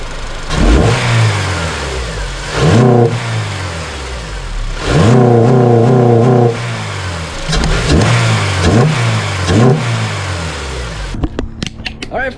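Acura TSX four-cylinder engine fitted with a custom intake, revved repeatedly: several sharp climbing revs with rising harmonics that fall back to idle between bursts, loud and close, with no talk over it.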